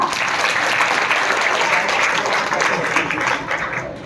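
Sustained applause from an audience at a motivational workshop on value-based education, a dense steady wash of many hands clapping close by for about four seconds, easing slightly at the end.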